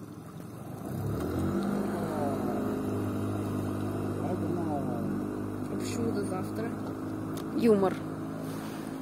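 A motorboat engine drones steadily throughout, with voices talking over it and a brief louder surge near the end.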